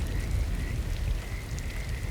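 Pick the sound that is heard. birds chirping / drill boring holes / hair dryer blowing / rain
rain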